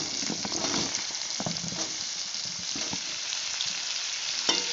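Potato pieces and cauliflower stems fry steadily in a pan, giving a continuous close sizzle with occasional louder crackles and pops over the hiss.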